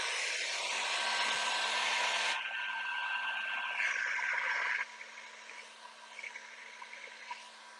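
A hair dryer blowing steadily to dry chalk paint on furniture, a loud continuous whoosh with a faint whine that drops in level twice as the dryer shifts, with no talking.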